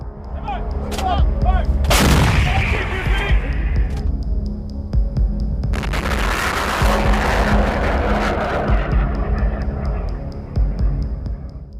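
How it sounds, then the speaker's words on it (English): Javelin missile strike on a Russian T-72 tank hiding in woodland, a heavy blast bursting out around two seconds in, then a long rumbling roar and crackle of the burning, destroyed tank with a steady low hum throughout, no talk. "This is the moment Ukrainian troops reportedly destroy a Russian tank hiding in the woods."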